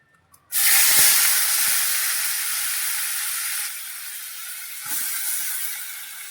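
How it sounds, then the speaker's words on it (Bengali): A paste of ginger, onion, green chilli and tomato hits hot oil in a pan for a Bengali fish curry, bursting into a loud sizzle that settles into a steady hiss and flares again briefly near the end. "রসুন দিইনি, আদা, পেঁয়াজ, কাঁচা লঙ্কা, টমেটো, এটা তেলেতে দিয়ে দিচ্ছি।"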